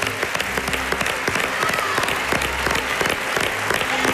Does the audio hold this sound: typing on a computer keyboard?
no